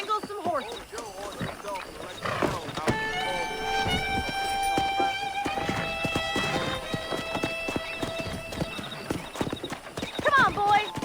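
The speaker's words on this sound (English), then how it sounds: "Let's see if we can't wrangle some horses." Horses in the Western video game Red Dead Redemption gallop with rapid, rhythmic hoofbeats and let out repeated neighs, loud and close, with music and in-game voices running underneath.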